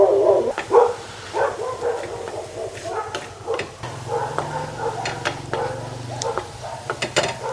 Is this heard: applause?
no